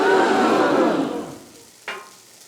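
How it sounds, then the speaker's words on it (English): Hash browns fry in a hot pan outdoors on a cold day, a loud broad sizzle that gradually fades over two seconds, followed by a brief sharp clatter near the end. "Let them be frying up."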